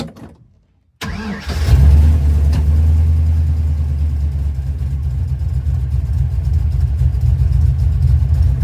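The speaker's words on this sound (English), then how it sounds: "And it just fired up and is idling." An engine fitted with an Edelbrock 1405 carburetor cranks briefly and fires up, then settles into a loud, steady, rumbling idle close by.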